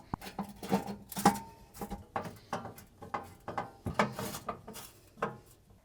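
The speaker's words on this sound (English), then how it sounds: "You just need to reattach the 4 screws." Four screws being refitted to the cover panel over an oven heating element, a close, quiet series of irregular ratcheting clicks and small metallic taps repeating steadily throughout.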